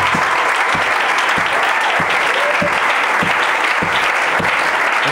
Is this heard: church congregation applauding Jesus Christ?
yes